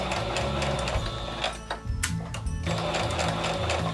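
A sewing machine stitches elastic onto doll clothes in a steady, continuous mechanical whir, loud and close, with a brief pause and change in motor pitch partway through.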